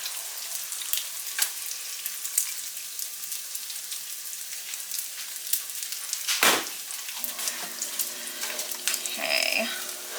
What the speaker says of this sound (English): And then I'm going to add in a whole can of evaporated milk.